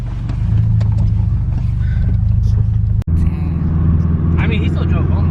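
A 2.5 RS Subaru Impreza with its muffler removed rumbles loudly and continuously, its deep, throbbing exhaust filling the air with a brief dropout midway, while voices talk over it.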